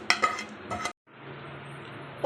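Spoon scrapes and clinks against a pan as tempering of tomato, onion, green chili and lentils is stirred into curd curry, a few sharp metallic knocks, a brief pause, then softer steady stirring and a final clink.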